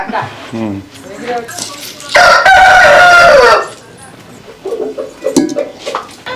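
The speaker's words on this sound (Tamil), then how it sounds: "சேவல் எல்லாம் வளர்த்துறாங்க உள்ளுக்குள்ள" A rooster crows once loudly and close by on a groundnut farm, a drawn-out call of about a second and a half, with people talking and clucking around it.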